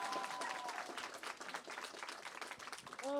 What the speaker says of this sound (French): Qui applaudit pour les Ninja Turtles,